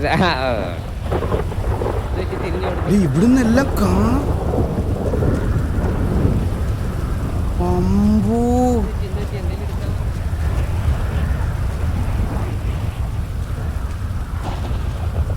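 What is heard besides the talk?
rain and thunder in a video game (GTA roleplay city)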